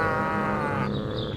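Cattle lowing in the alien invasion game Destroy All Humans, a steady drawn-out bovine moo with a second voice joining near the end, loud and close with no talk over it.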